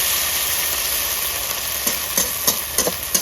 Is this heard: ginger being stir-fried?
yes